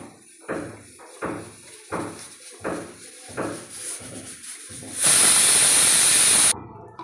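A pressure cooker of spicy mutton gives a run of rhythmic, evenly spaced steam puffs, then breaks into a loud, sustained whistling hiss of escaping steam that stops abruptly.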